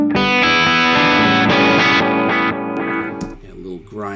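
A distorted mid-gain electric guitar runs through an H90 effects pedal into two amps, ringing out loud sustained chords with chorus-like shimmer before fading into quieter decaying notes, a voice briefly audible near the end.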